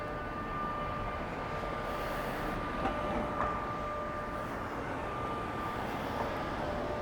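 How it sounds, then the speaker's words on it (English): A rooftop air conditioner on a city building in Chattanooga drones loudly and continuously, a steady broadband roar with a faint tonal whine sustained throughout, heard from street level. "Oh, it's that air conditioner on the roof of that building."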